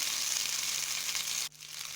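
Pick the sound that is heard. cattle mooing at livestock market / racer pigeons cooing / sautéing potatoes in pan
sautéing potatoes in pan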